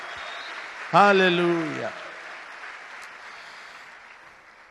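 A church congregation claps during a Spanish-language sermon, a steady wash of applause running throughout while a voice rings out loudly over it for about a second.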